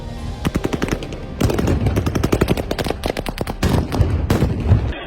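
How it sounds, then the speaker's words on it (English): Rapid bursts of gunfire ring out amid loud stun grenade blasts fired at protesters in occupied Kherson, Ukraine, sharp cracks coming in dense irregular volleys over several seconds. "the occupiers began firing, throwing light and noise grenades and firing tear gas"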